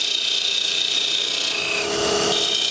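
Parting tool cutting into a spinning wood workpiece on a lathe, giving a steady, continuous rasping scrape that holds at an even, fairly loud level throughout with no talk.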